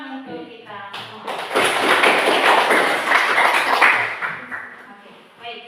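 A classroom group claps for itself at the close of a Catholic religious education lesson, a burst of dense hand clapping that swells, holds for a few seconds and fades, with voices talking before and after.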